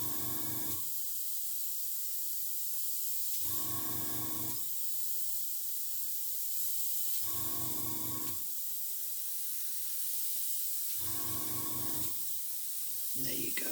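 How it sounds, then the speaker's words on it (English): A steady aerosol spray-paint hiss over a stencil runs throughout, interrupted by four short, louder bursts at regular intervals a few seconds apart. "So spray a bit, dry it back,"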